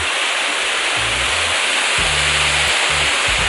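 Water rushes steadily and loudly at a canal inlet in a mangrove forest, a dense continuous roar near the listener, with low rumbling underneath.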